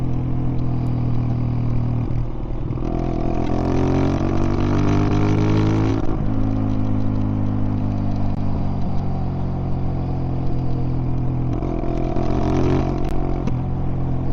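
A Zontes 125 motorcycle ridden along a quiet country road, its small engine droning loudly and continuously with rising and falling revs as it shifts and accelerates, wind rushing throughout.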